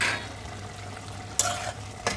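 Boiled ridge gourd and potatoes are stirred in a pan over a low sizzle, with two sharp scraping strokes of the utensil standing out near the end of the short moment.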